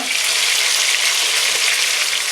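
Lamb pieces sear in a hot pot for an Irish lamb stew, giving a loud, steady, continuous sizzle with no pauses and no voices.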